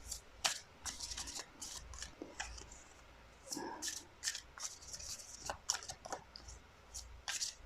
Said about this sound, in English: So this is why I'm shuffling kind of awkwardly sideways here.